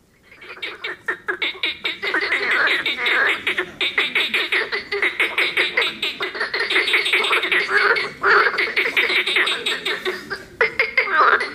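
Marsh frogs, also called laughing frogs, call loudly and close by in a dense chorus of rapid, pulsing croaks. The rattling bursts come in repeated phrases with short gaps between them.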